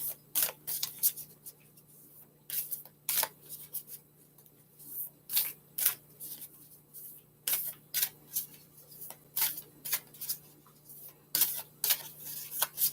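A deck of oracle cards is shuffled again and again, giving sharp riffling slaps in irregular bursts, close by over a faint steady hum.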